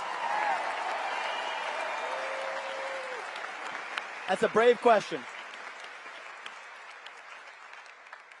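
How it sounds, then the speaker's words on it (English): Audience applause fills a conference hall, a steady wash of clapping beneath a voice that speaks briefly partway through, then slowly tapers off. "Give this woman, young woman, a round of applause"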